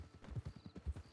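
A horse's hooves clip-clop at a steady walking pace in the Red Dead Online video game, quiet and regular.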